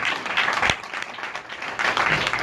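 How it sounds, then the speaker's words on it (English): An audience at a spoken-word and music gathering applauds for a performer, a broad wash of clapping that swells, dips briefly, then rises again. "Y'all give him a big round of applause."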